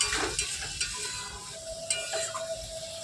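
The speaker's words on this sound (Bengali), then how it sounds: "এদিকে কচুর লতিগুলো মোটামুটি কষানো চলছে" Taro stolons (kachu loti) stirred and fried in a pan, a steady close sizzle broken by several scraping stirs of the spoon, with no voices.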